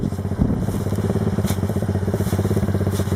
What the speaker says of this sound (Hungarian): Megkezdődik a motoros bobbajnokság.